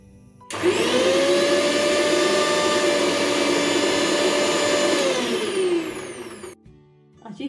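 A mixer grinder blends tamarind, jaggery and dates into chutney with a loud, close, steady motor whine that runs for several seconds, then winds down and stops.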